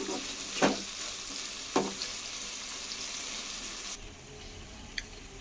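Tomatoes and tamarind fry in a pan with a continuous close sizzle, punctuated by two sharp spoon scrapes early on, then the frying quietens and a small clink is heard near the end.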